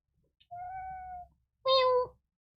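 A cat meows twice, close and fairly loud: a steady, tonal first call followed by a brighter, higher second one after a short pause, with a low background rumble beneath.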